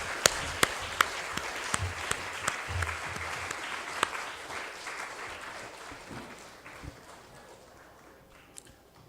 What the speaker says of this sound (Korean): 우리 한번 다시 한번 우리 박수 한번 하겠습니다